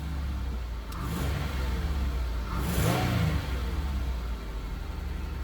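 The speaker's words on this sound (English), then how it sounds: "Give this one a couple of light revs." A Buick LeSabre engine on a cold start, idling and then lightly revved twice, the second rise stronger, each rev swelling and falling back to a steady idle nearby with no talking.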